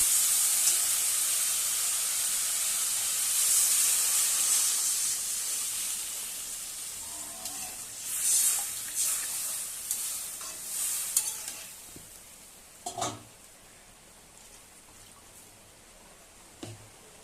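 Water poured into a hot frying pan of greens with spiced fish, a loud steady sizzle and hiss that gradually quiets, broken near the end by a few stirring knocks and scrapes.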